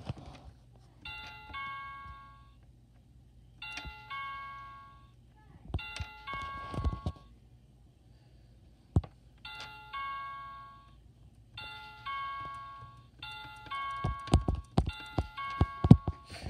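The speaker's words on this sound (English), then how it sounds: "So that's the door chime." A toy house's doorbell plays a repeated electronic chime in several bursts of bright tones, with soft knocks and handling clatter between them.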